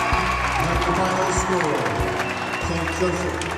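Spectators at a Greenwich Cardinals FCAC championship game cheer and clap in a loud, continuous roar, with an announcer's voice running over the crowd.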